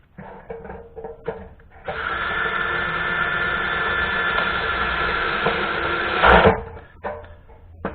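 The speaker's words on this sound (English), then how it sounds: "I'm just going to shoot a screw through that one to hold it in place for now" A power drill whines steadily for several seconds as a self-drilling screw bores into sheet metal, ending in a brief louder grind before stopping.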